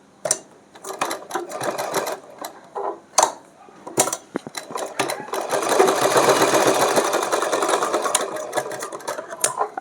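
A sewing machine stitches a small dress for a Laddu Gopal idol, starting in short stop-start bursts and then running in a longer continuous whirring rattle, close and loud.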